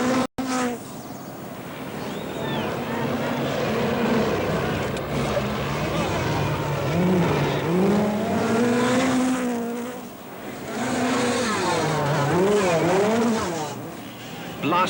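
Rally cars race flat out over dusty gravel roads at the 1984 Rally Portugal, an engine note rising and falling through gear changes as cars pass, with a commentator talking over it.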